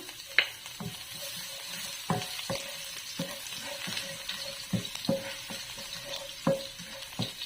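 Garlic fries in a little oil in a pan with a soft, steady sizzle, broken by sharp utensil clinks and stirring scrapes at irregular intervals.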